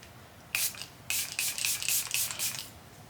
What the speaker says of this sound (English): we're going to go in again with the same Revolution setting spray just to keep all of my liquid products in place